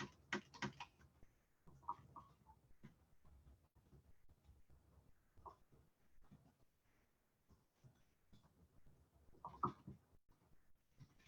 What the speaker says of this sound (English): let me type this real quick